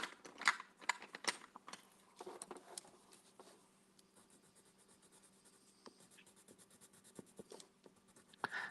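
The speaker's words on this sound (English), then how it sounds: "Now I'm using colored pencils" Prismacolor colored pencils scratch across paper while a flower is being drawn, with quick strokes in dense bursts at first, then lighter, steadier hatching, up close and alone.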